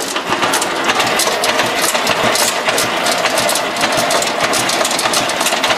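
A Sears Suburban SS16 snowblower engine idles low and rough close by, a loud continuous chug with rapid ticking and rattling throughout, and no voices.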